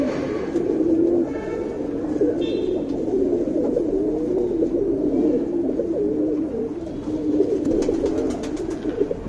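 A Tiruval pigeon coos close by, repeating low, soft, rolling calls steadily over a quiet background.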